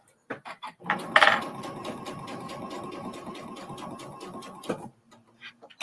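A sewing machine stitches a quilt in a steady, rapid mechanical patter that runs for about four seconds close to the microphone, then stops, with a few soft handling clicks before and after.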